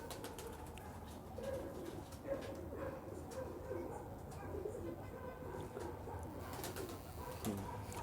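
Pigeons cooing softly in a low, repeated murmur, with faint voices and background noise underneath.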